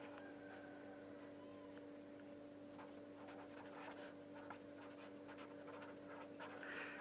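Marker or chalk writing on a board in a 7th grade math lecture, faint intermittent scratchy strokes in short bursts over a steady hum, no talk.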